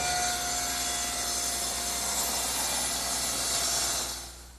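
A table saw with its blade tilted makes a 12.5 degree angled cut along the edge of a wooden workpiece for a rocking horse saddle, a steady loud whine that fades as the cut finishes.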